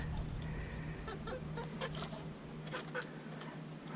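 Hens cluck softly in the background over a low steady hum, with scattered short calls rising now and then.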